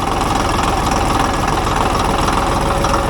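A Caterpillar D8 dozer's diesel engine, restarted after sitting over 15 years, idles low and steady close by, a continuous rumbling drone with even knocking pulses and no other sounds.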